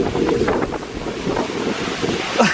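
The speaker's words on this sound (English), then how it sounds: "Really windy and really wet where I am." Strong wind gusting at an Oregon waterfall, a loud buffeting roar over the microphone mixed with rushing water, continuous and close with no talk.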